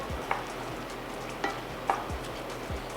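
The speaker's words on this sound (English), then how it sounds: "we're gonna go in with our white onions. Mix those up." White onions stirred in a frying pan while making Jamaican escoveitch fish, a soft steady sizzle with a few distinct scrapes of a utensil, close up and with no voices.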